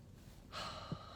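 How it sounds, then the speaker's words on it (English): A deep breath drawn in through the nose and held during a calm reflective talk, a single soft, close inhalation that swells briefly and then stops, quiet and alone. "invite myself to take a breath in and deep and hold it"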